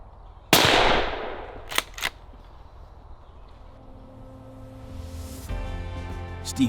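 A rifle shot fired while stalking a muntjac deer in undergrowth: one sharp, loud crack with a decaying echo, then a couple of fainter clicks and a quieter outdoor background.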